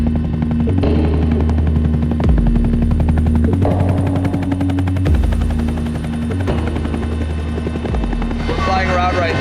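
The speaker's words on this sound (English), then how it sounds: "flying around right now in the Pemex helicopter" A Pemex helicopter flies overhead with a loud, steady thudding rotor chop and engine whine, while voices talk underneath it.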